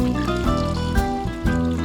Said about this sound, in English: I'm using water here, which I fill in the same jar